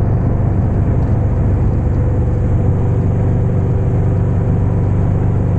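A Harley-Davidson Street Glide with Rinehart DBX45 exhausts rides along with a steady, loud, low engine rumble and a droning exhaust note, heard up close from the bike while cruising on a road in the afternoon.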